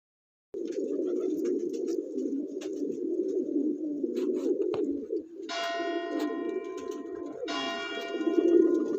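Pigeons in a snowy winter setting cooing and calling steadily, with a continuous low murmur throughout and brief bell-like ringing tones joining near the end.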